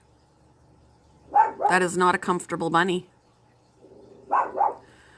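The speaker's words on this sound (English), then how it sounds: "Sorry about the dog, you guys. She sees something out the window and she won't shut up." A female dog barks repeatedly at something outside a window, a close burst of loud, yippy barks with whimpering tones, then a shorter pair of barks a moment later, all while someone talks.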